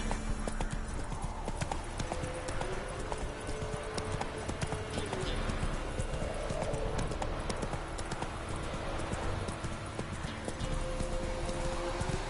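Roach, the horse in The Witcher 3, gallops at full speed, loud rapid hoofbeats drumming continuously up close over game ambience and music, with a brief spoken line in the mix.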